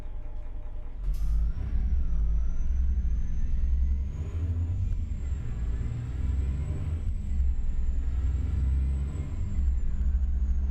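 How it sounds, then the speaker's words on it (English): Truck engine in American Truck Simulator, version 1.59, running with a steady deep low rumble and a thin high whine that climbs slowly as it revs, loud and continuous with no talk. "This thing sounds like a sport car more than it does a truck."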